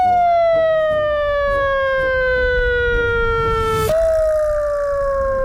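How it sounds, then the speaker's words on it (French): A loud wailing car-mounted emergency siren, like fire, ambulance or police, with a slowly falling pitch, sustained and close, jumping back up sharply near the end with faint rumble beneath. "c'est des sirènes de pompiers, SAMU, police"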